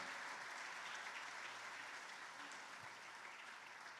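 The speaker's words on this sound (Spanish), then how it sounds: "Dale un aplauso al Rey." A church congregation applauding during a sermon, a steady wash of many hands clapping, heard faint and distant throughout with no talk over it.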